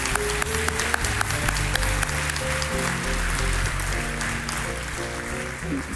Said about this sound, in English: I want to give a round of applause to all Silverado associates